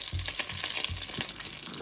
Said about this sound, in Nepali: अब म चाहिँ हल्का हालिदिन्छु जीरा। जीरा चाहिँ भुट्टिदै गर्छ हैन।